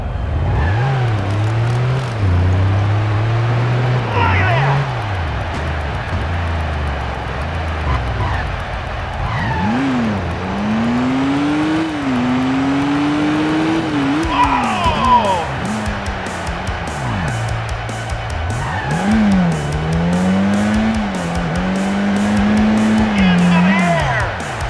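Cars in the video game Stuntman roar through stunts, their engines revving up and down continuously while tires squeal in several bursts, loud and close throughout.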